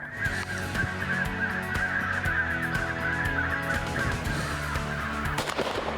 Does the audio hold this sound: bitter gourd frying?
no